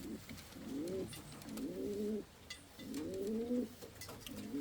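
Indian fantail pigeons coo at their nests in a series of four soft, rolling, repeated calls close by, with faint chirps and rustling in the background.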